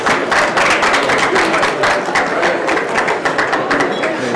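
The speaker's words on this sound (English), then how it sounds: "Please give them a round of applause." An audience claps for the chefs at a culinary event, dense steady applause with individual hand claps standing out, close and loud throughout the short stretch.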